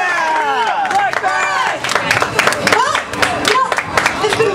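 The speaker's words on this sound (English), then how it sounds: "Can we get one more round of applause for them?" Audience at a cosplay contest applauds and cheers loudly, with steady clapping, whoops and shouts from a close crowd throughout.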